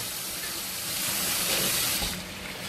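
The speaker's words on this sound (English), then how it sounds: "I'm just going to drain most of this grease off." Hot grease poured off cooked meat from a pan, a steady hissing liquid stream that swells briefly in the middle and then tapers.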